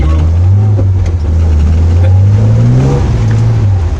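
A car drifting on the Ladoux circuit, its engine droning loud and close with a steady low tone that rises slightly in pitch as it revs, then settles, with no talk over it.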